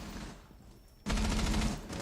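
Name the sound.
gunfire exchanged in a video game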